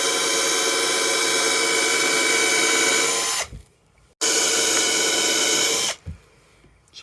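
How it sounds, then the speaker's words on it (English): A small power drill with a 3mm bit whirs steadily for a few seconds while drilling a screw hole in a VW Transporter, stops, then runs again in a second burst, close and loud. "we use a 3mm drill to create the hole for the screw"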